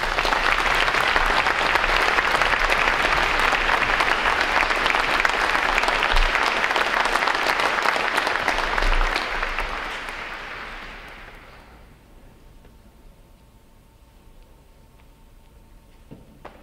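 Sustained applause from a graduation ceremony audience for midshipmen, loud and steady for about ten seconds, then fading out into quiet room tone.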